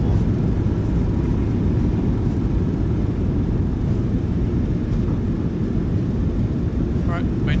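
Reverse thrust from a PMDG Boeing 737 BBJ landing in Microsoft Flight Simulator 2024: a loud, steady low engine roar held throughout, with no pauses and no voices over it.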